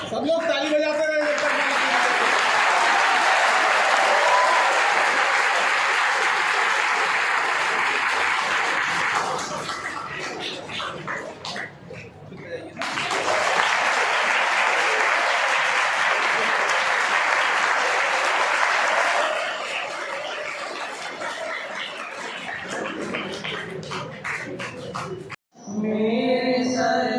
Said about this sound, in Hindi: सब लोग ताली बजाते रहे।